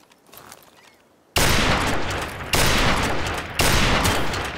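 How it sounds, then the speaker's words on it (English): Gunshots in Call of Duty 4 during a one-on-one match: after a quiet moment, three loud, sharp shots ring out, each roughly a second apart, with the blasts nearly running together. "Both of those shots are right on you."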